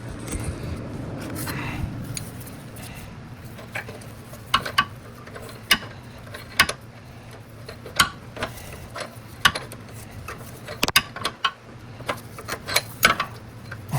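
A socket ratchet works an oxygen sensor loose on a fifth-generation Ford Explorer. It makes scattered metallic clicks and clacks at an uneven pace over a low steady background hum.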